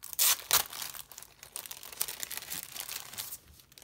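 Crinkling and tearing of the packaging on an Erin Condren planner kit as it is opened, two sharp close rips at the start followed by softer rustling and crackling.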